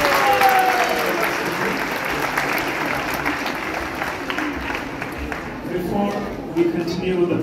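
A big round of applause from the crowd at a lecture in a temple hall, loud, continuous clapping filling the space, with faint voices mixed underneath.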